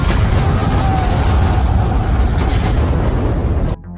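A large gas canister explodes in a film scene near a window, a loud, dense roar of blast and rumble that fills the moment and then cuts off abruptly.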